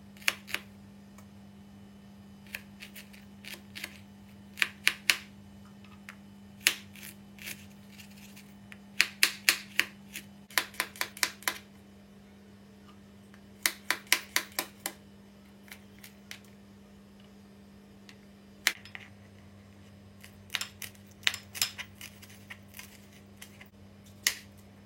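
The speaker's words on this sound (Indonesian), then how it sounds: "Dan bumbunya ini cukup diiris-iris saja." A very sharp stainless kitchen knife slices spices and chilies on a cutting board in quick bursts of crisp taps, with pauses between runs of cuts, close and clear against a low steady hum.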